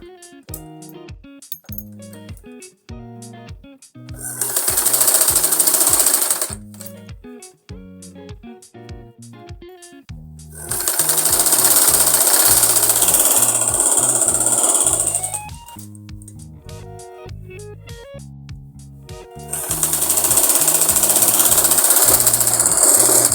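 A sewing machine stitches a folded half-inch fabric strip onto an Afghani salwar, running in three loud sustained bursts between stretches of sharp, rhythmic rattling and clicking from the machine.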